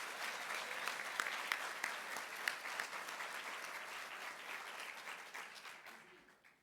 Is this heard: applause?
yes